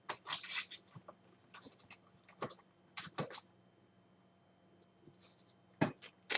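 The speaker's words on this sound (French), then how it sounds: "j'attrape mes bâtons de pastel sec et je gratte un peu pour avoir de la couleur" Dry pastel sticks scrape across paper in short, crisp bursts, a series of quiet gritty strokes with pauses between them, close and faint in an otherwise still room.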